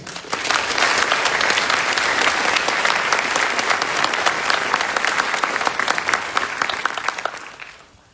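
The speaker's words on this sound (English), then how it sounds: "Please join me in a round of applause for their hard work and dedication" A crowd at a US Army Drill Sergeant graduation ceremony claps enthusiastically, a dense, sustained round of applause that holds steady for several seconds before tapering off.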